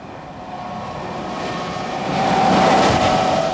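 An Emsland maglev train glides past, its steady rushing hum building and swelling toward the end of the few seconds, heard alone without talk.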